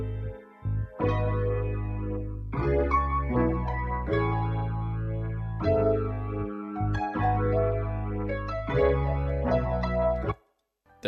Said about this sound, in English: I added this Rickenbacker bass from Contact